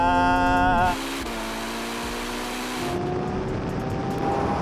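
Lamborghini Revuelto and Ferrari SF90 accelerate hard in a drag race, a rising high-revving engine whine that cuts to a broad rushing roar, with no talk over it.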